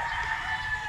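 A rooster crows in one sustained, close call at a gamefowl farm.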